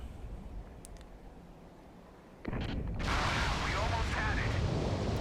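A shell strikes an enemy ship in Steel Ocean, setting off a sudden heavy explosion that swells into a loud sustained roar after a quieter rumbling lead-in.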